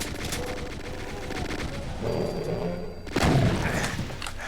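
In Doom 2, gunfire and explosive blasts burst in a rough sequence over game noise, with one heavier boom hitting near the end.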